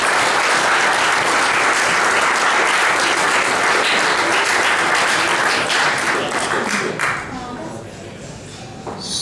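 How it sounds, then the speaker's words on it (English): Loud, dense applause from a club gathering honouring its volunteers, sustained clapping that tapers off after about seven seconds into quieter scattered claps and murmur. "So big round of applause for all our volunteers."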